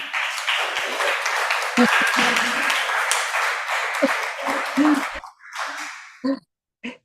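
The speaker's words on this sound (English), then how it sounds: "So please, a round of warm applause for Laima" Warm audience applause at a literary event for the Winter Water Festival, fairly loud and continuous for about five seconds before fading out, followed by a few scattered claps and brief sounds.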